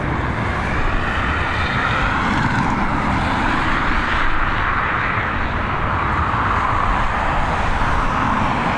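A FedEx Boeing 767 holds at Dublin Airport, its jet engines giving a steady, loud broadband roar that stays constant throughout with no voices over it.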